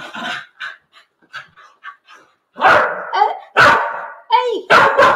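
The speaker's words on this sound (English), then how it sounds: "Can you stop barking, please? Stop barking." Dogs bark in short loud bursts nearby, with a few sharp yips and some panting between them. Softer quieter sounds come first, and several forceful barks follow in quick succession near the end.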